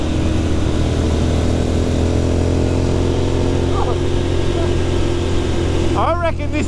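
A Royal Enfield Continental GT 650 Twin motorcycle ridden on twisty roads, its engine droning steadily and loud under heavy wind rush, with a rider's voice breaking in briefly near the end.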